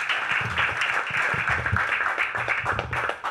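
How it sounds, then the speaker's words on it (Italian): An audience applauds to welcome a speaker at an intelligence summer-school event in a library in Soveria Mannelli, Italy. The clapping is dense and steady throughout, with no talking over it. "Salutiamolo con un applauso."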